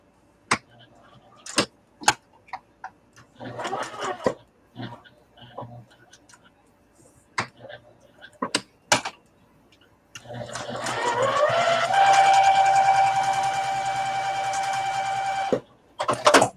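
A sewing machine stitches a fabric bowl cozy shut in a home craft setting, first in short clattering bursts between clicks and handling noises, then in one long steady whirring run before stopping.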